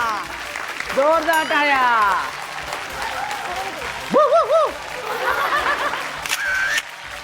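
Loud applause for the winning woman on a Marathi TV show, heard as clapping and cheering bursts from the audience while a host speaks over it, with a musical sting partway through.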